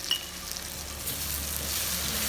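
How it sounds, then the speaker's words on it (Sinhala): Chilli and spice powder fries in a pan, a quiet, steady sizzle with a faint rising hiss and no voices. "ඊට පස්සේ මේ ටික පොඩ්ඩක් මේ විදිහට ෆ්‍රයිඩ් වෙන්න තියලා"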